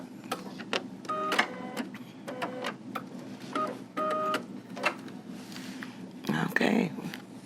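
A sewing machine stitches slowly and backstitches through a thick quilted zipper bag, giving short bursts of rhythmic mechanical whirring with a soft voice talking alongside.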